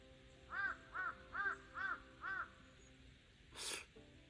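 A crow caws loudly five times in an even rhythm on a frosty spring day, followed by a brief breathy burst and quiet.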